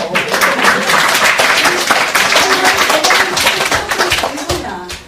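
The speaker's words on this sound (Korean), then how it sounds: "이럴 때 박수를 쳐줘요." An audience at a seminar on U.S. exchange students claps for a newly elected student council president, a dense, steady patter of many hands filling the room for about five seconds, with some voices mixed in.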